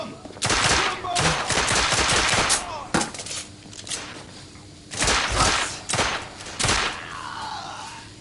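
Gunfire in the video game The Order 1886, several loud, close bursts of rapid shots separated by brief pauses, the last bursts shorter, with a voice briefly heard between them.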